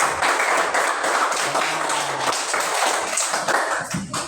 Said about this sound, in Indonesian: Betul, beri aplaus.